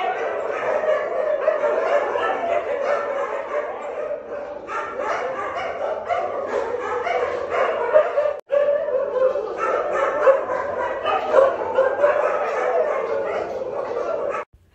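Several large dogs bark and yip in a steady, loud chorus close by, with whimpers mixed in and a brief break partway through.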